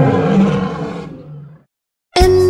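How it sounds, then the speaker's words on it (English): A lion's roar from a children's phonics song rings out loud and close, a long rumbling roar fading over a second and a half, then silence before a second roar bursts in. "L is for lion"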